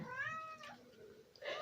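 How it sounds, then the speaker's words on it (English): A pet cat meows loudly and insistently indoors, with a long drawn-out meow at the start and a shorter one near the end, close to the listener. "What is one of my YouTube videos without Kiwi meowing like she's crazy"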